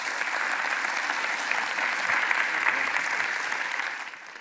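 Sustained audience applause at the end of a Bitcoin treasury companies panel at a Washington conference, dense even clapping throughout that fades slightly at the close.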